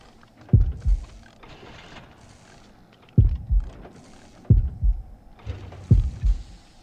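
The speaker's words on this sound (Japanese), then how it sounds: "ただ心音めちゃくちゃ近いんですよね。" Heartbeat warning sound in the Horrorfield video game, signaling a killer nearby: deep, thudding double beats come in spaced clusters, loud and close, over a faint background hum.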